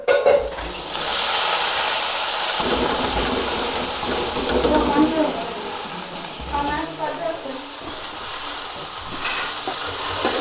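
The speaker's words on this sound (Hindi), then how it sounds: "प्याज को भी करेंगे अच्छी तरह फ्राई।" Chopped onions frying hard in a pan with okra for a Bengali bhindi dish, giving a steady, loud sizzle and hiss that runs the whole time, with stirring noises and shifting crackle.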